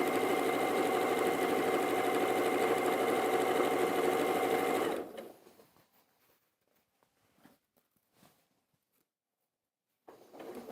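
A sewing machine runs a seam with back stitching in a steady, close whirring drone for about five seconds, then cuts off. Soft handling noises and faint clicks follow before it briefly starts again at the end.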